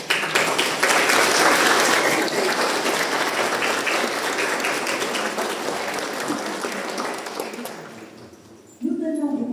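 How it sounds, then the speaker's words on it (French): Church congregation at a Mass applauding together, a loud sustained burst of clapping that gradually thins and fades, followed by a voice speaking at the very end. "Pour la réussite de Notre-Dame de Laos, nous pouvons applaudir tout ensemble."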